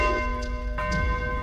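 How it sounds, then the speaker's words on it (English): A tocsin alarm bell rings out with resonant, sustained tones, struck again partway through and loud against a low background rumble. "the alarm bell, the tocsin,"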